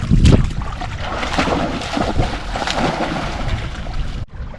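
A small 25 hp Mercury outboard motor on a small fishing boat runs steadily nearby with wind rushing across the microphone, cutting out abruptly near the end.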